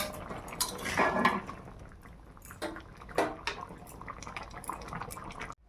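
A pot of cauliflower curry is lifted off a home stove, with clattering metal cookware and utensil clinks, a couple of louder clanks standing out over a low background hiss.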